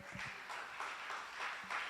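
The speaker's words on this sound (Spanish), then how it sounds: "Denle un aplauso fuerte al Señor" A church congregation applauds for the Lord during a service, with soft, distant, continuous clapping that swells slightly in waves.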